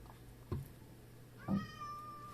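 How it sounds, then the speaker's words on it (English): Two short Minecraft cat meows about a second apart, the second longer and rising, over a quiet electronic hum. "I could have sworn I heard a cat."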